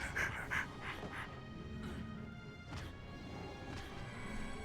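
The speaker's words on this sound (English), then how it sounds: "Her breathing into the microphone." Rhythmic panting breaths picked up close on a microphone, a quick burst of heavy puffs at the start followed by quieter, spaced breaths against a faint background of game sounds.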